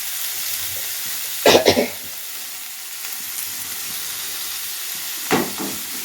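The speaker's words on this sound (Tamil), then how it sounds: "வெங்காயம் வந்து கொஞ்சம் நல்லா வதங்கலாம்" Onions sauté in a pan with curry leaves, giving a continuous soft frying hiss punctuated by two brief bursts of louder sizzling and scraping as they are stirred.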